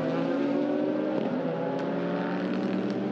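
A Lamborghini race car at Magny-Cours in the pit lane, a steady close engine drone with layered harmonic hum and slight pitch shifts, continuous and loud throughout with no talking.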